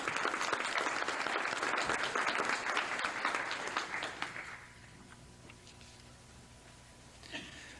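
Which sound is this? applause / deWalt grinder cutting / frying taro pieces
applause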